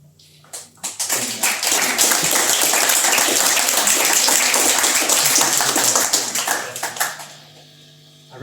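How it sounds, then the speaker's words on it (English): Audience applause at a live guitar clinic in Paris: a dense, steady roar of many hands clapping close by that swells quickly, holds for several seconds, then fades out. "I recognize that applause."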